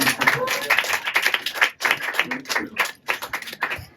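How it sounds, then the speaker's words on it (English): An audience at a close-up magic show at The Magic Castle claps for a volunteer, with brisk, scattered hand claps mixed with voices, fairly near and lasting a few seconds. "everybody give him a round of applause"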